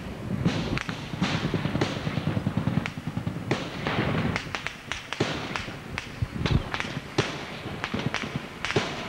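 Gunshots during the December 1990 Carapintada armed uprising in Argentina, a string of sharp irregular cracks and pops, some single and some in quick bursts, over a rough background rumble, with no speech.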